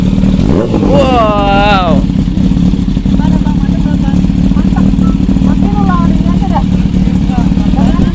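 Kawasaki H2 and ZX25R motorcycles rev loudly nearby, a constant heavy engine roar filling the whole stretch while people exclaim and talk over it.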